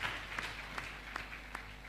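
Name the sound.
audience applause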